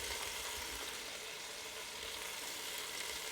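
Garlic sizzles in the hot oil of an Instant Pot, a steady, close, crackling hiss throughout with no voices.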